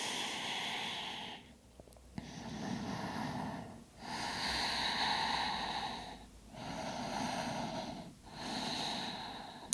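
Slow, deep breathing during a yoga class, with long audible inhales and exhales alternating in a steady rhythm, close and fairly soft, with no talking over it.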